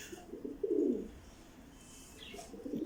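Pigeons coo at home in a bird loft among young birds and chickens, giving soft low throaty murmurs in short bursts at close range, fairly faint against quiet background noise.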